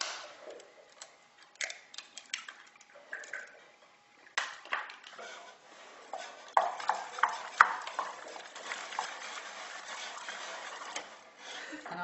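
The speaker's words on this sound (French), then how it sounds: "maintenant je vais mélanger les œufs un par un" Spoon mixing eggs one at a time into cooled choux pastry dough: a steady series of soft, wet, slapping and clicking strokes in an uneven rhythm, close and fairly quiet, continuing throughout.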